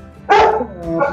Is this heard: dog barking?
yes